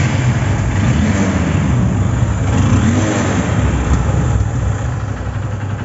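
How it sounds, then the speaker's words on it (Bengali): A Honda CB Trigger motorcycle engine runs loud and close, a steady rumbling drone with slight swells in revs and no voices over it. "বাইকটি সাউন্ড কোয়ালিটি শুনুন,"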